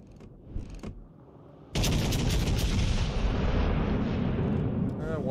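Heavy naval guns firing shells in World of Warships Legends, a quieter stretch of game noise broken by a sudden loud sustained roar of salvos and rumbling impacts, with talking underneath.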